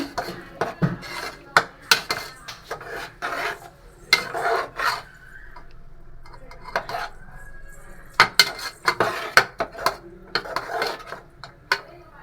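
Chana masala is sautéed and stirred in a pan. A spatula repeatedly clatters and scrapes against the metal in uneven bursts, with brief quieter pauses between the loud knocks.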